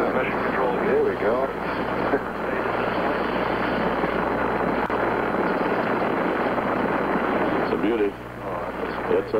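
Saturn V rocket lifting off for Apollo 13 in April 1970, building toward 7.6 million pounds of thrust as it clears the tower: a loud, continuous broadband roar filling the whole stretch, with talk heard over it.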